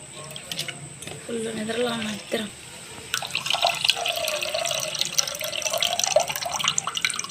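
Water pours into a pot of village-style pepper-tomato rasam, a close, continuous splashing stream filling the second half after a short stretch of talking.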